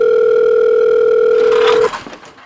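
In the Roblox game Brookhaven, a phone dial tone hums steadily and loudly for almost two seconds, then cuts off into soft, muffled game noise.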